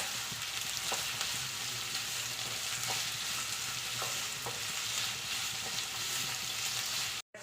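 Chicken fried rice with capsicum, spring onion and other vegetables stirred in a pan over high flame, a steady close sizzle with soft periodic scrapes of the spoon, ending abruptly.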